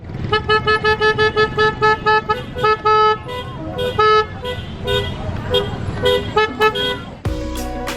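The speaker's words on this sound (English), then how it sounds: "Traffic jam." Car horns honk over and over in busy holiday traffic on a road near the Pindaya caves in Myanmar, with some loud long blasts and short toots overlapping through the jam and one sustained blare near the end.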